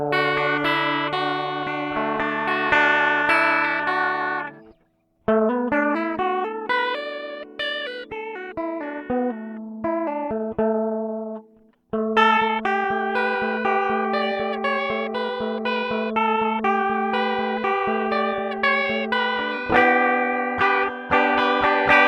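Electric guitar playing a song through a Boss CE-5 Chorus Ensemble pedal, a shimmering, wavering chorused tone with chiming chords and picked melodic phrases, clear and close, pausing twice before resuming.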